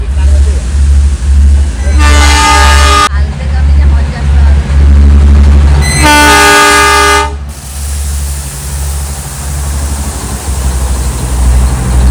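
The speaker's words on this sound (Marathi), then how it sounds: "ट्रेनचा आवाज येतोय." A small train near Matheran rumbles past with a steady low drone and sounds two loud, harmonic horn blasts a few seconds apart.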